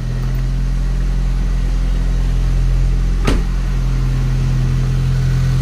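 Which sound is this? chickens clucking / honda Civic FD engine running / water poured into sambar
honda Civic FD engine running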